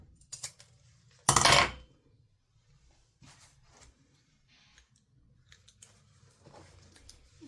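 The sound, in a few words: clipping the ends off zippers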